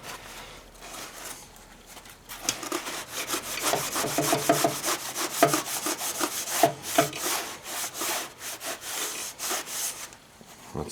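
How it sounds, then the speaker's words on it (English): Rag rubbing across the friction disc and drive wheel of a Cub Cadet snowblower during cleaning, a steady run of close, scratchy back-and-forth strokes that starts after a quiet moment and fades out near the end. "And we'll clean the other side of the disc."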